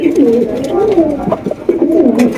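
Pigeons coo close by, soft throaty rolling calls repeating in a few phrases with no talk.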